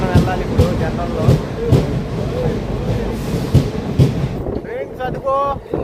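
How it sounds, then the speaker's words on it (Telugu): A passenger train rolls into a station with a steady rumble and regular rhythmic clacks of wheels over rail joints, loud and close, with wind buffeting the microphone and some voices near the end. "మనం ఎక్కే ట్రైన్ అయితే వస్తుంది. ఇప్పుడే స్టేషన్కి అయితే వస్తుంది."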